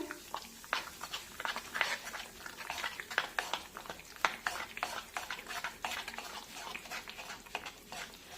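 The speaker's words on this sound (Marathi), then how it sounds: "आता पटापट हे मिश्रण मिक्स करून घेऊया।" A spoon briskly stirs carrot batter mixed with Eno activated by a splash of water in a bowl, a quick run of close, soft scraping and wet clicking strokes with no talking.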